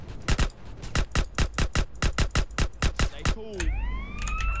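Rapid bursts of gunfire in a steady rhythm, then a rising police siren wail begins and carries to the end, in the video game GTA San Andreas.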